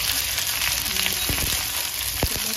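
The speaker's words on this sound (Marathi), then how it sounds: "ते सगळं छान परतून घ्यायचं" Whole spices, black pepper, bay leaf and cinnamon, fry in oil with chopped onion, making a continuous close sizzle with a few soft scrapes of a spatula, steady and even.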